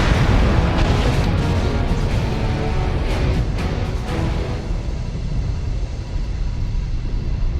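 Incoming missile explosions in MechWarrior Online, with an Awesome AWS-8V assault mech in play: heavy, rumbling booms and blasts layered over constant loud battle noise.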